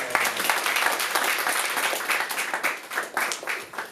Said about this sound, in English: I can give a round of applause.